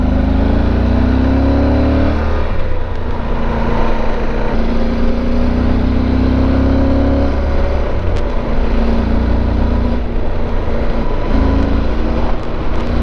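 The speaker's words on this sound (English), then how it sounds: "That truck was going pretty darn fast." A truck rushes past at speed on a road, heard from a moving Super Tenere motorcycle whose steady engine drone and wind roar dominate throughout.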